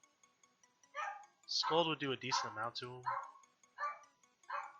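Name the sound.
dog barking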